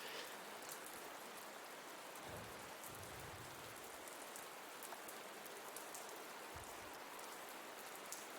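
Rain falling as ambience for a tabletop Dungeons & Dragons 5e session, a steady, even hiss of rainfall with a couple of soft low rumbles; no talking.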